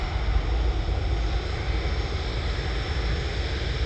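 Steady, loud engine roar of a British Airways airliner landing at Manchester Airport, a continuous rumble heard close by without any talking.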